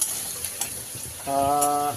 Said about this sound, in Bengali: আর এদিকে উচ্ছে রসুন ভাজা অনেকটাই হয়ে গেছে।